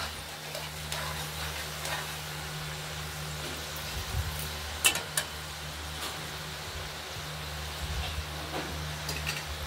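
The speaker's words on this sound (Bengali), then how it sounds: "কড়াইতে কেটে রাখা গজাগুলো ভেজে নেবো এক এক করে।" Pieces of gaja dough fry one by one in hot oil in a kadai wok, giving a faint, steady sizzle with a few small ticks and pops throughout and no voices.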